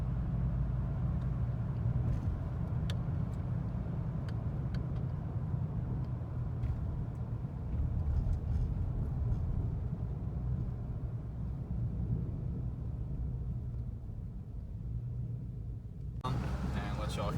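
A car with a true dual exhaust is driven along, giving off a deep, continuous low rumble at a moderate level. The sound stays fairly steady throughout, and a sharper burst of noise comes in near the end.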